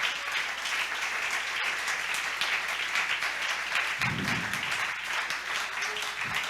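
A church congregation applauds during a sermon, a steady, dense patter of many hands clapping that stays even in level, with a faint low voice briefly surfacing partway through.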